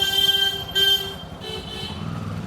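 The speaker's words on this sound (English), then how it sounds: "These guys love honking." Vehicle horns honking on a busy Delhi street with tuk-tuks and rickshaws, several loud overlapping toots in quick succession over a low rumble of traffic, no talking.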